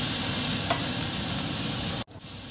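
Eggplant and onion stir-frying in a pan, a loud continuous close sizzle with a faint stir near the start, cut briefly near the end before resuming.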